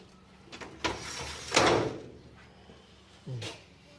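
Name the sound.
aluminum sliding door opening or closing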